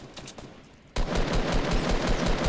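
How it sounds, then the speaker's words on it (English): Gunfire in the Fortnite video game: sparse light shots, then a sudden burst of rapid automatic fire that rattles on loudly to the end. "What are you shooting at?"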